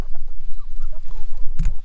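Homestead chickens clucking close by in short, choppy bursts, ending in a loud thump or handling noise.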